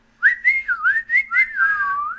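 A person whistling a short melodic phrase, clear and close, gliding between notes in a few connected bursts with no talking over it.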